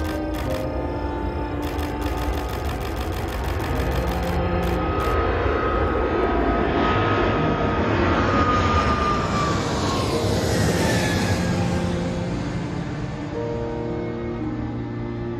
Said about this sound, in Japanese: そしてこちらの滑走路に入ってまいりまして、これから飛び立つことになります。